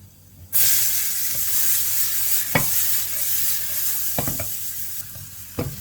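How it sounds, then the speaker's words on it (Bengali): Onion poured into hot oil with garlic already cooked in a pan, bursting into a loud, steady sizzle that continues throughout, with occasional stirring scrapes and knocks of a utensil against the pan. "রসুনটা হওয়ার পরে পেঁয়াজটা ঢেলে দিয়েছি।"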